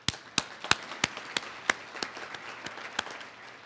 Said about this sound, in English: you all deserve a round of applause for your commitment and for your